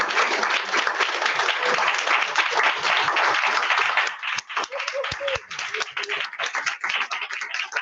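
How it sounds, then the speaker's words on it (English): Audience applause for a guest speaker at a church gathering, dense and steady for about four seconds before thinning into scattered individual claps as it dies away. "another round of applause"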